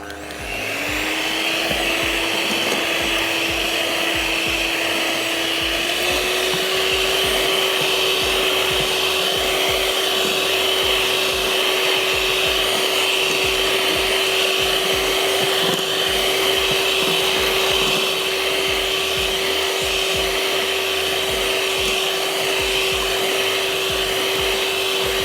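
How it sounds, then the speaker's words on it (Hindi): Electric blender grinding a cup of sugar, a loud continuous whirring motor drone that settles to a slightly higher steady pitch after a few seconds and runs on without pause. "इस चीनी के साथ हम इसको अगेन अच्छा सा ब्लेंड कर लेते हैं"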